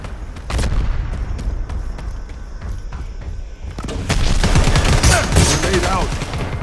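Grenade blasts and rapid gunfire from the shooter game Predator: Hunting Grounds, a dense barrage of booming bursts and crackling shots that swells louder in the second half, with voices faintly mixed in.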